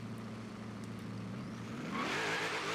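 A '55 Chevrolet Bel Air launching in Forza Horizon 3, its engine idling with a low throb before revving up sharply into a louder, rising roar with tyre hiss.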